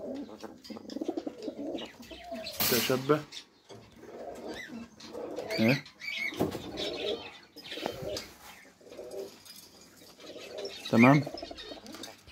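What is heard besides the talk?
pigeons cooing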